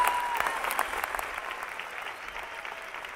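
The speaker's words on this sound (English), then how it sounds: "Ladies and gentlemen, please join in applauding their efforts and achievements." Audience at the 2023 Shawnee Mission East high school graduation applauds the graduating students, a sustained rush of many hands clapping in a large hall that gradually softens over a few seconds.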